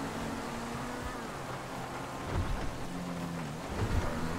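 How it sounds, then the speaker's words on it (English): Steady rain falling in the video game GTA 5, a dense continuous hiss with a few low rumbles swelling near the end, heard alone without talk. "Like, it's still raining."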